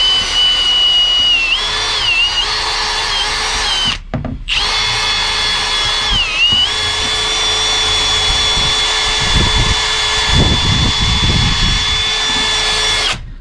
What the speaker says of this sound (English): got our control arm, our scuff wheel.